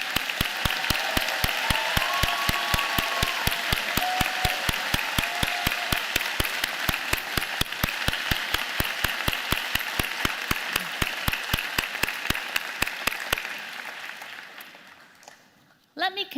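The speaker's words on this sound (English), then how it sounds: "join me and the platform party in thanking them with a very rigorous round of applause" Convocation audience gives a long round of applause for friends and family, a steady dense clapping with a strong regular beat that fades out near the end, followed by a short burst of sound.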